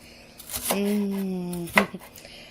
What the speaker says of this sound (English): Just chop up some onion here for my rice.